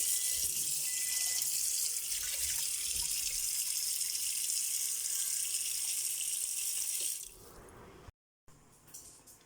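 Tap water pours steadily into a cooking pot in a home kitchen, a loud continuous rush that stops abruptly near the end, leaving brief quiet handling noise.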